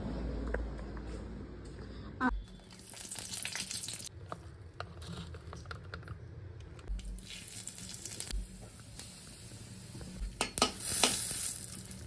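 Bitter gourd fries in a pan with a steady close sizzle, broken by stirring scrapes and occasional clinks of utensils against the cookware.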